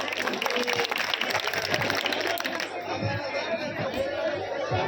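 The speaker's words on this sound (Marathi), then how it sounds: "एकदा टाळ्या वाजवूया" Applause from a school audience at a children's festival program honoring a young lavani dancer, dense clapping mixed with crowd chatter, then easing into quieter murmuring.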